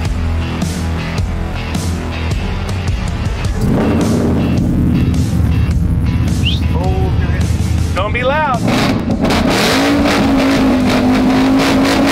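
A 785-horsepower Ford F100 roars in a burnout pit, its engine revving hard and loud throughout with rising and falling pitch sweeps, crowd and voices blended into the din.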